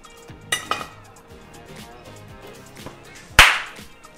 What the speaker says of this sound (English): Let's put it back into the crock pot with the juices in it. Go ahead and mix that up.